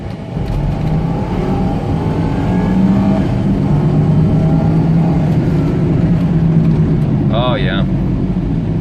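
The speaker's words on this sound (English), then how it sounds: "We're gonna do a 0 to 60 kilometer pull." A 2001 Volvo XC70 with 214K miles accelerates from 0 to 60 km/h, its engine droning and rising steadily from inside the cabin, with a brief electronic chirp near the end.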